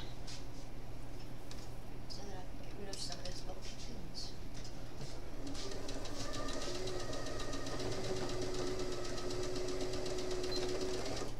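Sewing machine stitching doll fabric in a curve, a steady mechanical whir that starts quieter and becomes a louder continuous hum with a faint whine in the second half.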